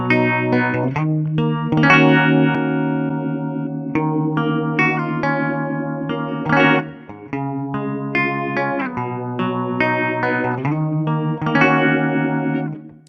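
Electric guitar played through a Strymon Zelzah phaser pedal in its two-stage Phase 45 mode, with sustained chords and short riffs sweeping in a swirling phase effect, loud and close with no talking.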